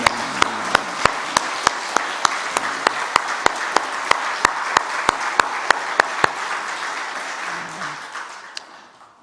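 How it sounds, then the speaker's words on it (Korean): A church congregation applauds together in a sustained wash of clapping, with a steady rhythmic beat running through it, then the applause fades out toward the end. "축복의 박수를 한번 드리겠습니다"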